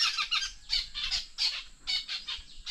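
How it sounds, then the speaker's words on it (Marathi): Birds near a farm field, where chickens are also kept, squawk a loud alarm call in rapid harsh bursts, about a dozen in quick clusters, close by with no talk. "ही केकाटे आहेत, हे अशा ओरडतात ना तेव्हा बाकीच्या पक्ष्यांना कोंबड्यांना पण समजतं की आजूबाजूला काहीतरी"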